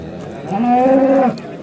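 A single loud, close cow moo at a livestock market, a steady droning low call lasting under a second over faint background noise.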